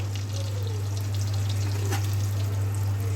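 Mutton frying in shallow oil in a home kitchen, a soft, continuous crackling sizzle at low level over a steady low hum, with a faint scrape or stir partway through.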